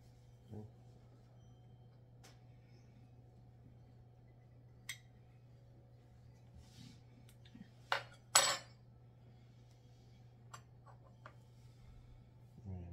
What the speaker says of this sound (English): Might have to get a knife to get some of that out.